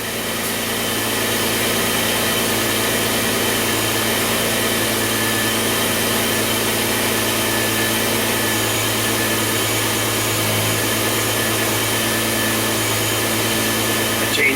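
A Ford Taurus engine that runs lean idles steadily while a spray is aimed at its EGR valve, a loud continuous close hum with an even drone and no breaks or voices.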